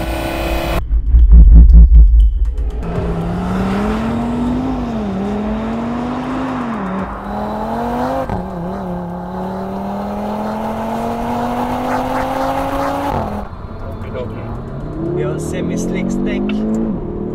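A 2022 Audi RS 3 accelerates hard on a race track, its engine note rising through several gears with brief shift breaks, loud and close as if heard from inside the car.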